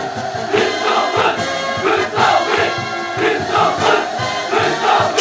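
A large crowd in a public square at a 2020 celebration of the party's 75th founding anniversary cheers and roars hurrahs in loud rhythmic surges, with no voice on top.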